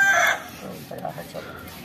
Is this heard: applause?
no